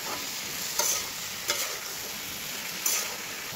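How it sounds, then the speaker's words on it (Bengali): Eggplant and potato curry with cumin powder being mixed in a pan, a soft continuous sizzle with three short scraping stirs spaced apart, fairly quiet and without talk. "আমি এটা অনেক ভালোভাবে মিশিয়ে নেব।"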